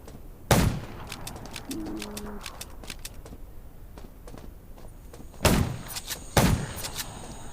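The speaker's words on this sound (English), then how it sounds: "Gunshots will attract more zombies." Gunfire in the zombie survival video game Undawn: a single sharp shot, then two more sharp bangs a few seconds later, loud against quieter game ambience.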